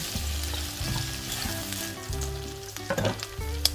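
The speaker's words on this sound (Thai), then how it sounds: "เราจะผัดหมูจนกระทั่งมีไขมันออกมานะคะ แล้วก็ใช้ไฟกลางๆนะคะ" Pork stir-fried over medium heat in a pan until its fat renders, a loud close sizzle with brisk scraping strokes, under steady background music with no talk.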